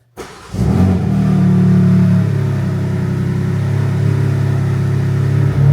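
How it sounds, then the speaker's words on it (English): A BMW M4 CS S58 engine cold start in a garage: cranks briefly, catches with a loud rev, then holds a steady, rumbling high idle close by. "The sound of the BMW S58 in the garage on cold start."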